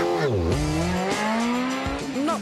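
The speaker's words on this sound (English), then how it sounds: "Skidding around a lot on the gravel." A rally car slides around on loose gravel during a warm-up run, its engine revving up and down loudly and close with gear changes, while the tyres scrabble and skid over the surface.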